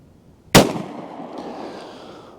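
A single sharp gunshot from a Glock G30 pistol firing a .45 Auto AAC round into ballistic gel outdoors, an abrupt loud crack at close range followed by a decaying rumble and ringing tail.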